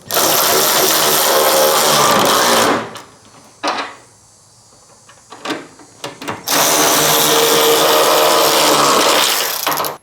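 A power tool drives the tail light bolts back into a Toyota Tacoma in two long, loud whirring runs separated by a few seconds of quieter clinks and handling, close up with no speech.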